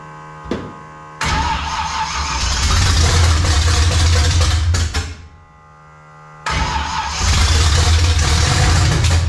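A 1955 Chevy project car's engine catches on its first start, revving roughly and loudly up close, dropping off briefly after a few seconds, then firing back up to a steady, rumbling run.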